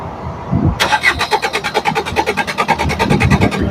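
A Maruti Suzuki Swift diesel engine cranks without firing, the starter motor churning in a fast, even rhythmic pulse that starts abruptly and keeps going, loud and close.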